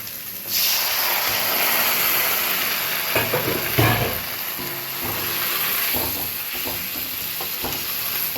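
Leafy greens drop into a hot frying pan with a loud, steady sizzle and hiss, followed by scattered stirring clatter from the pan in the second half.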